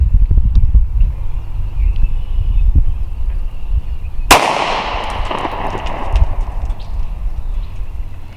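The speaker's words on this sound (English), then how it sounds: "And Mrs. Poe Performance is going to be shooting at the left orange duct tape." A single sharp Sig P365 pistol shot fired at an orange duct-tape target outdoors, loud and close, cracking suddenly after low rumbling handling noise and then ringing away.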